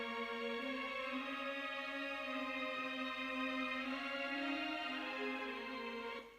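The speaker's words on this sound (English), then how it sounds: "like fake placeholder strings that sound like this" Synthetic MIDI placeholder strings played on a keyboard hold two sustained notes as a smooth, continuous string pad, soft and steady throughout, fading slightly at the very end.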